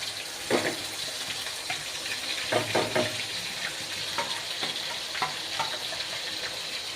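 Garam masala sizzles steadily in hot oil, a constant crackling fry with occasional sharper pops and stirring scrapes, close and moderately loud, with no talk.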